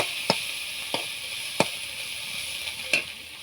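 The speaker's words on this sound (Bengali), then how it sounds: "8 থেকে 10 মিনিট ভালোভাবে কিন্তু ভাজতে হবে, না ভাজলে কিন্তু এই কুমড়ো শাকটা কিন্তু সিদ্ধ হবে না" Pumpkin greens fry in a pan with a steady low sizzle, broken by four sharp taps or clacks of stirring spaced unevenly through the stretch, close and with no talking.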